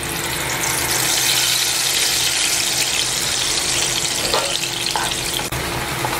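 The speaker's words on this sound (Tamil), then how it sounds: "இப்போ இதை எண்ணெயில் சேர்த்துடலாம்." Onion-tomato paste fries in hot oil for a radish fry, giving a loud, steady sizzle that runs unbroken throughout with faint stirring scrapes near the end.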